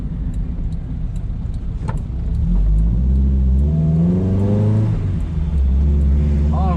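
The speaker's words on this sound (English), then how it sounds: "Makes all the right snap, crackles and pops from the exhaust though." Mitsubishi Sigma Lancer accelerating hard, its engine loud and close with rising revs through the gears and crackles and pops from the exhaust.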